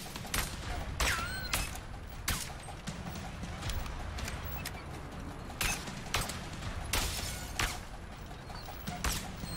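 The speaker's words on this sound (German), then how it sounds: "Der schießt die ganze Scheinwerfer kaputt." Gunfire in the video game A Way Out as spotlights get shot out, with a rapid series of sharp, loud shots spread across the scene, some with a ringing metallic tail, over a steady background din.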